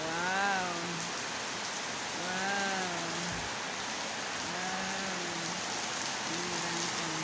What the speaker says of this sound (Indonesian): Hujan di sekolah tuh.